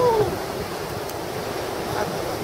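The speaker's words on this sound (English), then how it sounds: "Oh, it's a big wind" Strong wind gusting through a snowy yard, a broad steady roar close on the microphone that stays loud throughout, without pause or break.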